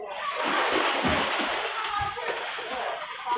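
Water splashes and sloshes in a large hotel swimming pool during a birthday party, irregular close splashes with children's voices talking and calling over them.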